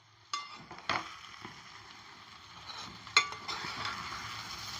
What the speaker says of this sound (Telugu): ఇట్లనే ఎంపుకునాలి నూనెలో కూడా తాలింపు చేసి